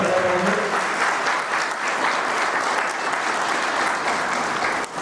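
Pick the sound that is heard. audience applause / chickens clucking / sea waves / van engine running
audience applause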